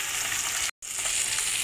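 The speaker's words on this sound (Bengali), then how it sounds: "আমার মাছের মাথাটা লাল করে ভাজা হয়ে গেছে" Katla fish head frying in hot oil, a dense close sizzle and crackle that continues steadily, broken once by a split second of silence.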